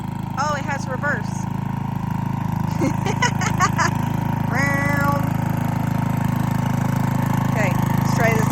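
An old tractor engine runs nearby with a constant low, droning chug, while several people talk over it in short bursts.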